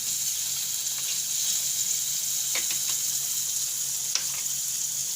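Mustard seeds, chilies and asafoetida sizzling in hot oil for a vada pav tempering, a continuous close hiss with a few crisp spattering pops.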